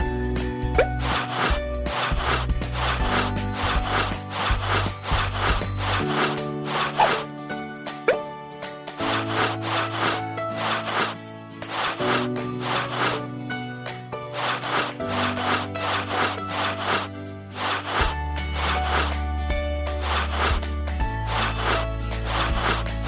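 Wood being rubbed clean in steady, repeated back-and-forth strokes, a continuous scraping rhythm that runs loud and close for over twenty seconds with no talk.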